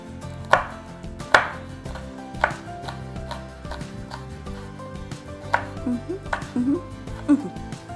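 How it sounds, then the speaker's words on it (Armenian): Knife chopping ingredients finely on a board for a snail-shaped pasta, with irregular sharp knocks of the blade spaced across the stretch and faint kitchen clatter beneath, close and fairly loud. "կտրատում ենք շատ մանր"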